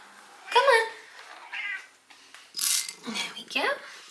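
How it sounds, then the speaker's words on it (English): A Siamese cat meows loudly and repeatedly, several insistent calls spread over a few seconds close by, with a person speaking between the cries. "People say Siamese are noisy. Are you hungry? I've just been being shouted at."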